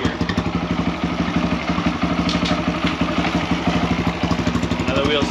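A Kawasaki KLX140RF dirt bike, ridden on a flat tire, runs in second gear with its rear wheel spinning, giving a steady, rapid, close engine chug with light mechanical clatter throughout.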